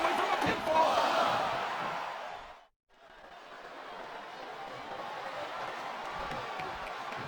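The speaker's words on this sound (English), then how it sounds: "This capacity crowd is making their opinions known tonight." Crowd in the WWE SmackDown vs. Raw 2007 video game, a women's wrestling match, roaring steadily in a dense, loud wash. The noise cuts out to near silence for a moment before swelling back.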